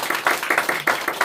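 Congregation clapping in welcome at a Sunday morning church service, a short burst of distinct, fairly regular handclaps from a small gathering.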